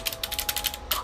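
Fast typing on a Razer Ornata Chroma gaming keyboard, a dense run of quick close key taps with a brief pause before a final burst.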